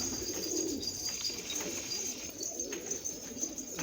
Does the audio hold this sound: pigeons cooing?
yes